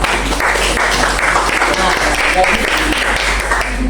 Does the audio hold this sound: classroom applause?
yes